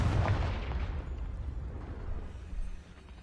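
A Confringo fire spell blast from Hogwarts Legacy goes off as a deep rumbling boom that hits hard at the start and then decays into a long fading roar.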